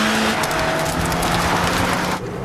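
A Fiat Punto Abarth with a 1.8-litre 16-valve engine drives hard, its engine and road noise a loud, steady roar that stays constant before easing slightly right at the end.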